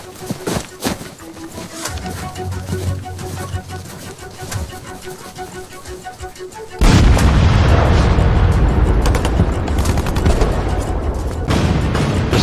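Heavy tank and artillery fire from panzers blasting American Sherman positions in a war drama: scattered distant booms at first, then a sudden loud, dense barrage of explosions and shots from about seven seconds on.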